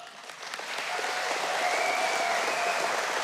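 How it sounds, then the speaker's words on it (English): An awards dinner audience breaks into applause, clapping that swells during the first second and then holds as a broad, even roar of many hands. "Please give a massive round of applause for Larissa Wooding Ngata"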